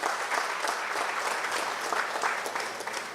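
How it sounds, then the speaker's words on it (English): Members at a San Fernando West political constituency conference break into sustained applause, a thick wash of many hands clapping that stays full and even before tapering slightly. "let's give a round of applause"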